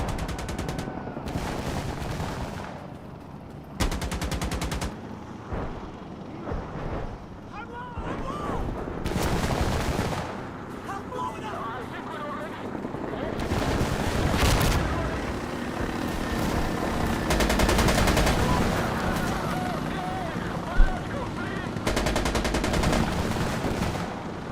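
Bursts of gunfire aimed at a helicopter in the Death Stranding video game, loud and repeated over rotor and aircraft noise, with players talking over the fighting.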